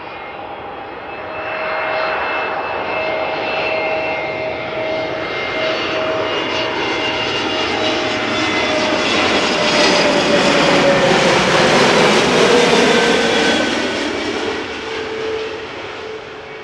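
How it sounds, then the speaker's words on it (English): An EasyJet Airbus A320neo arriving at Amsterdam Schiphol from Jersey: a steady engine roar with a thin whining tone that grows louder and closer, peaks, then eases off. "Got another A320neo coming up from EasyJet, arriving from Jersey."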